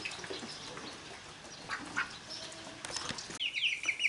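Egg-laying ducks kept indoors on a cold, rainy day give scattered quacks and rustling, with a brief burst of wing flapping and a sharper call near the end.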